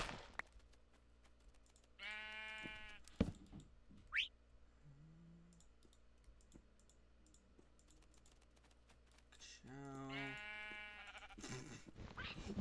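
Two drawn-out sheep bleats from Minecraft ring out several seconds apart over steady clicking of a computer keyboard, with a short higher squeak between them and no voices.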